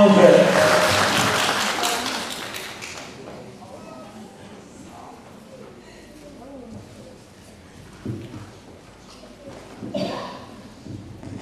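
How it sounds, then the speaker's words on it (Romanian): Audience applause at a diploma and oath ceremony for a post-secondary medical nursing school, loud clapping for the first three seconds, then fading under an announcer's voice and room noise. "Aplauze, aplauze, aplauze"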